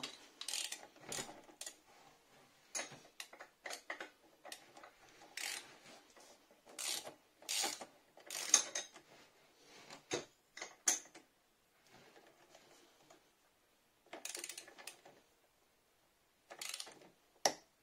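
A ratchet tightening the wheel nut on a scooter wheel during reassembly, bursts of rapid clicking strokes in uneven runs with short pauses, close and fairly quiet, no talking.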